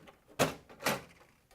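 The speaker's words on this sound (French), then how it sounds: "Remise en place de la porte principale sur le chariot." The main door of a PMC206X kiosk terminal is set back onto its cart with two distinct knocking thuds about half a second apart, close and moderately loud.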